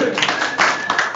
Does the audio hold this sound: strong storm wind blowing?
no